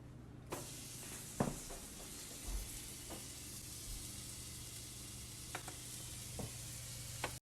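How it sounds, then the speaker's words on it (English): Minced garlic sizzles softly in melted butter in a pan, the first step of a shrimp alfredo. The gentle frying hiss runs steadily under occasional clicks and scrapes of a stirring utensil. "Continue to stir your minced garlic in the butter until you can start smelling your garlic"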